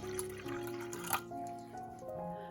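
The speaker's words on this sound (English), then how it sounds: "In my bowl I'm gonna put some warm water or hot water." Warm water poured into a bowl while making Lebanese hummus, a soft, close trickle and splash with gurgling tones that shift in pitch as the bowl fills, quiet and with no talking.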